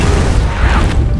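A grenade explodes inside a rotten building in a zombie film, a loud, close, rumbling boom that sustains and crashes for over a second.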